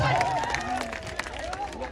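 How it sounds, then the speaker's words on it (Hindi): Crowd noise at an outdoor Indian kushti wrestling match with wrestler Mausam Ali: a dense, continuous roar of applause and cheering from a large gathering, steady throughout and mixed with an announcer's voice and murmuring. "मौसम पहलवान के नाम पर जोरदार तालियों से"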